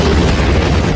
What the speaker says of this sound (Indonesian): Ia berhasil naik ke atas pesawat Dreykov dan meledakkan turbin pesawat dengan tongkat bomnya.